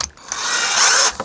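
An angle grinder cuts metal at a masonry worksite, giving a loud, close, high-pitched grinding whine that swells over about a second and then cuts off.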